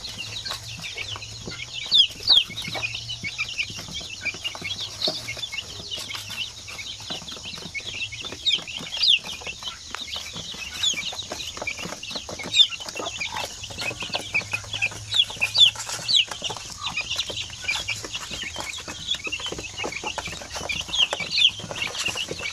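Native chickens cluck steadily in a yard, several birds close by, with soft scattered calls and chirps over a constant background hum.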